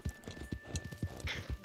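Horse hooves clip-clop at a steady trotting rhythm in Red Dead Redemption 2, close and fairly loud, with the rider's player horse moving alone without talk.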